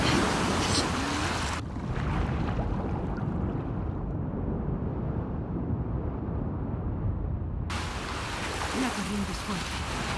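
Rough sea waves surge around a boat in The Last of Us Part II, a broad continuous roar of surf and wind that drops in brightness for several seconds before returning, with no speech.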